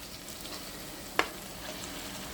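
Half a kilogram of mutton sizzles in a pan for gongura mutton, a steady broad frying hiss with one sharp clink near the middle.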